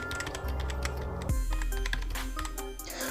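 Someone types the word gaming on a computer keyboard: a quick run of sharp key clicks over steady background music, fairly close.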